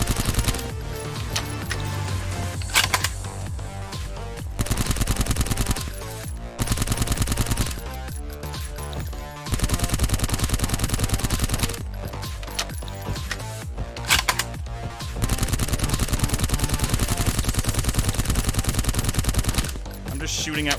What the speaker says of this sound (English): Shooting at where bullets are coming from instead of like droids that I can see